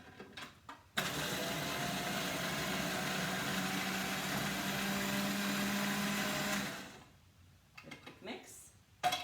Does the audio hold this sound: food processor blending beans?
yes